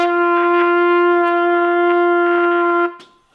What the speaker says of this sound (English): what people try when they first try to play a note on the trumpet is blow as loud and as hard as they can